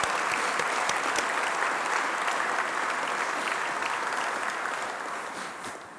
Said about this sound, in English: How about a round of applause for all these wonderful dogs and their veterans?